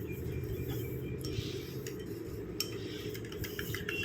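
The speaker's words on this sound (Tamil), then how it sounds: "இந்த மாதிரி கரண்டி வச்சு நல்லா கலந்து விட்டிங்கன்னா நல்லா திக்காக ஒரு கன்சிஸ்டன்சியில் நமக்கு வரும்" A spoon stirs egg white with powdered sugar in a bowl, producing a soft continuous scraping and swishing with scattered light clinks against the side, close and fairly quiet, no talking.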